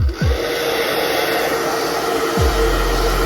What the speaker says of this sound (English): we're going to go in with the blow dryer on the lowest setting